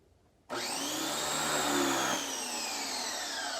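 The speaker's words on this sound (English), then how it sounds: "you can turn on the washer to use it" A Powerhouse Platinum pressure washer switches on abruptly and runs steadily with a loud, continuous motor whine and hum that shifts slightly in pitch midway, with no talk.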